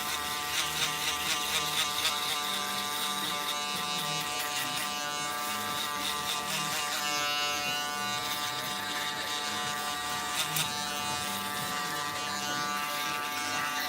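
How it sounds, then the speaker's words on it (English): An electric shaver cuts close along a hairline during a live fade haircut, a steady, close buzz that runs continuously with slight wavering as it moves over the head, with no talking. "So you guys can see how close this shaver cuts."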